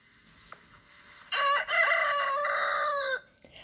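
A single loud rooster crow rings out nearby, lasting nearly two seconds against a quiet background.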